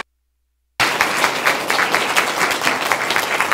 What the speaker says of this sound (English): will you help me in giving him a giant round of applause